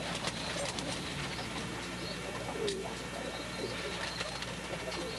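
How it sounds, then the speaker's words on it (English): Soft pigeon cooing, low and muffled, under steady background noise. "He's cooing, everything is all right."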